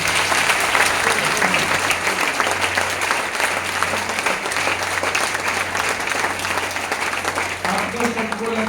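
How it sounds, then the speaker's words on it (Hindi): Loud, sustained audience applause from a large crowd, steady clapping that fills the whole stretch, with a voice speaking faintly underneath near the end. "जोरदार ताली दीजिए।"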